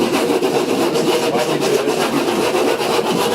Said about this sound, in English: So I'll actually scour the surface. It's probably A little, like maybe an 80 grit.